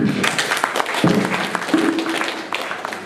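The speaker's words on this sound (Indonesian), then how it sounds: "Tepuk tangan" An audience applauds loudly and continuously, dense clapping filling the room, with a few voices faintly audible underneath.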